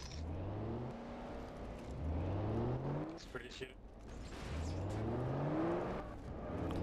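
A car driven in Garry's Mod DarkRP, its engine climbing in pitch as it revs through a gear, dropping at each shift and then rising again. The revving is steady and close, with people talking over it.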